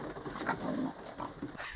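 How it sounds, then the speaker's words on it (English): Pigs oink and grunt in short, faint bursts scattered across a brief stretch of low background noise, with no talking over them. "Are they oinking?"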